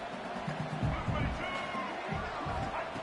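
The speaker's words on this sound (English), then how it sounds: "Tremendous crowd atmosphere now in the final minute of play." A stadium crowd in an American football video game roars in a steady, dense wall of noise during the final minute of play, loud and continuous throughout.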